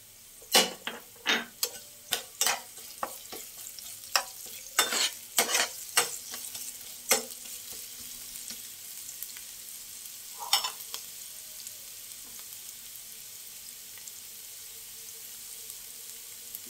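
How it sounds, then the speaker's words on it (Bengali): Carrots stir-fried with chopped ginger and garlic in a pan: a run of sharp, close spatula scrapes and clanks over a steady sizzle, the strokes thinning out after the first eight seconds into mostly quiet frying. "গাজরটা আমার ভাজা ভাজা হয়ে গেছে। এবার দিয়ে দেবো আদা রসুন কুচি"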